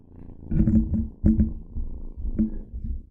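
A close, low rumbling purr with uneven bursts and breathy pauses, heard alone.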